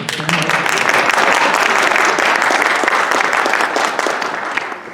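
An audience applauds beginning chanter students and their instructor at a group program showcase, a dense, steady wash of clapping that stays loud throughout and eases slightly near the end.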